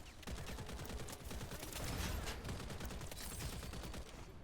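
Sustained rapid gunfire in the shooter game Wild Assault, dense overlapping bursts of automatic weapons crackling continuously and loudly throughout, with no pauses.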